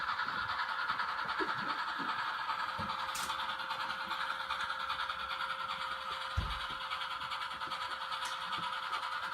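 Model railroad train running on a home layout, a steady rolling hum with faint clicking of wheels over track joints and a few sharp knocks, continuous and fairly close.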